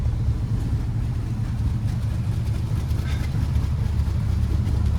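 Engine of a 1950 Ford Deluxe Fordor sedan police car running after start-up, a steady low rumbling idle, close and continuous with no talk.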